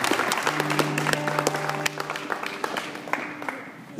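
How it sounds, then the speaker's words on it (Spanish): A church congregation applauds steadily, a dense wash of many hands with a sustained musical tone beneath for the first half, gradually thinning toward the end. "es un aplauso fuertísimo a nuestro Señor Jesucristo"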